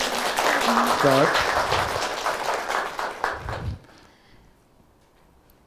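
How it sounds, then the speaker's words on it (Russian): Audience applause at a journalism master class, steady clapping running beneath a woman's speech for several seconds before dying away into a quiet room. "Еще раз аплодисменты"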